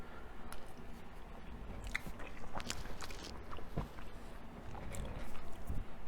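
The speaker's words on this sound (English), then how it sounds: "So first bite here, the pasta salad and the curry." Someone chews a mouthful of pasta salad and curry from a Caribbean restaurant, close and wet with soft crunches over a low room murmur, no clear speech.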